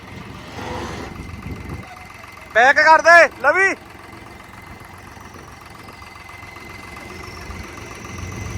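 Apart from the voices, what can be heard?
tractor engine idling at trolley pulling contest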